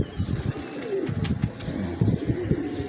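Breeder pigeons coo close by in a steady, soft series of low throaty calls, repeating throughout without any talk.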